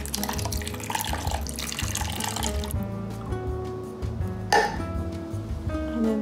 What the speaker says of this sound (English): and then I'm just gonna pour this in.